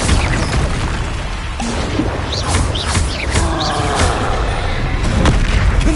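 Bombarda explosion spell in Hogwarts Legacy, loud booming blasts and crackling bursts layered over dense, continuous battle noise with whooshing effects, close and intense throughout.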